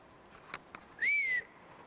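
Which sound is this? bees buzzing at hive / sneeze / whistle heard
whistle heard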